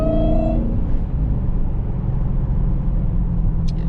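Dodge Hellcat on a street, a brief rising engine note at the start that drops into a low rumbling road roar, close and steady.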